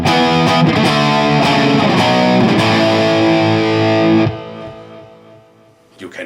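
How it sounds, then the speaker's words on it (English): A crunchy, distorted Gibson Les Paul electric guitar strums a loud rhythm of chords, then lets the last chord ring out and fade, with a faint scrape at the end. "here you have the crunchy distortion rhythm sound"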